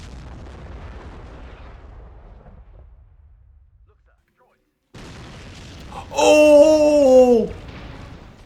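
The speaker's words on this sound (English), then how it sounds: "Did you see how many grenades that was?" Grenade explosions in a Star Wars Battle of Naboo video game: a low rumble of distant blasts, a brief drop to near silence, then a loud, sweeping burst with a falling tone.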